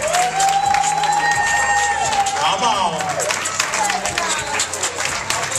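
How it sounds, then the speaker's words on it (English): Audience applause at a children's fashion show, a steady dense patter of clapping with crowd noise filling the whole stretch, while a voice talks over it and a melodic tone sounds faintly in the background. "Come on, y'all keep clapping."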